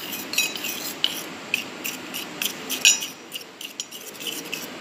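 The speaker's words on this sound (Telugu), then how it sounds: "ఇలా వేరుగా తీసుకున్న మిల్క్లో 2 టేబుల్ స్పూన్స్ కార్న్ ఫ్లోర్ వేసి కలుపుకుందాం." A spoon stirs two tablespoons of corn flour into a separate portion of milk for mango ice cream, giving soft scraping clinks against the bowl, with steady brisk strokes that are close and fairly quiet.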